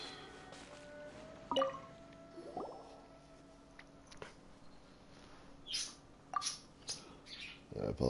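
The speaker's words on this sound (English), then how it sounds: "I apologize for the loud birds in the background." Bird chirps and tweets sounding outdoors behind a quiet recording, a scattering of short, fairly loud calls over faint background noise, with no talk.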